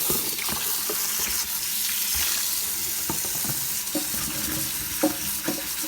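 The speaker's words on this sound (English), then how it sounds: "I'll just continue rinsing my bananas now." Green bananas rinsed under running water give a continuous splashing wash with scattered clunks and knocks as they are handled, and no one talks.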